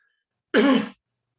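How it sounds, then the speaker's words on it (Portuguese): A single short cough or throat-clearing burst, close and fairly loud, lasting under half a second, with silence before and after. "Desculpa essa tossinha chata, minha garganta está um pouco irritada."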